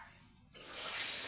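Koi fish lowered into smoking-hot oil in a home kitchen bursts into a sudden loud, bright sizzle after a quiet moment, the hiss swelling and holding steady to the end.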